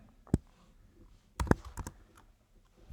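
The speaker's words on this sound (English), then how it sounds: "I was typing in the wrong one" Scattered computer keyboard taps, a lone keystroke then a quick cluster of clicks, close and fairly quiet against a hushed room.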